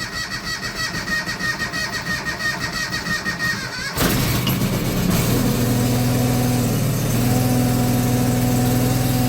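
An old engine, choked and cranked, whirs and sputters for several seconds, then catches and roars into a loud, steady idle with a rising, droning tone.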